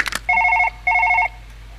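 A telephone in the Surgeon Simulator 2013 video game rings in two bright electronic trills separated by a short gap, clear and loud after a brief clatter.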